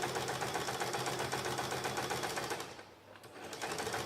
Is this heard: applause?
no